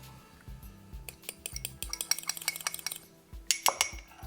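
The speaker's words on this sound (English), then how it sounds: "Just trying to break down the curd so it gets to a nice consistency, blended with the milk." Spoon clinking against a bowl while curd is stirred and broken up with milk for gulab jamun, a quick irregular series of close metallic taps and scrapes.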